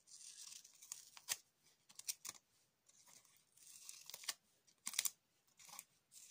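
Several sharp snips and tearing crackles of scissors cutting double-sided tape come in bursts, close by, with quiet pauses between them and no talking.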